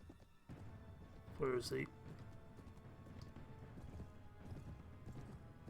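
Horse hooves galloping in Mount and Blade Warband, a soft, fairly distant clip-clop running under a man's speech, with a brief louder burst of sound early on.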